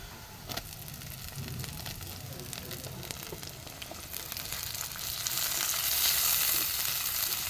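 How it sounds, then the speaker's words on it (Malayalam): Shallots and tomatoes for a home-style fish curry fry in a pan while being stirred. A steady sizzle runs throughout with scattered scraping stirs, and it grows slightly louder and hissier toward the end. "നന്നായിട്ടൊന്ന് ഇളക്കി കൊടുക്കുക. നന്നായി ഉടയുന്ന വരെ ഒന്ന് ഇളക്കി കൊടുക്കുക."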